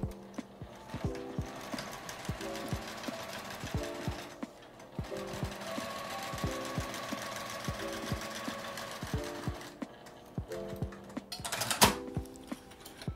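Sewing machine stitching a fabric shoulder strap pieced from scrap cloth, with steady bursts of rapid needle clatter separated by short pauses, close and clear with no talking.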